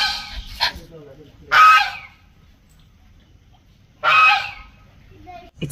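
Geese honk near a wooden house in Thailand, with two loud, harsh bursts of calls separated by quiet, plus a fainter call near the start.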